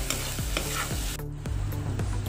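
Half a spoon of ginger-garlic paste fries in hot oil in a pan while making prawn thokku. It sizzles steadily, and a spoon scrapes and stirs through it in a regular rhythm, with no talking.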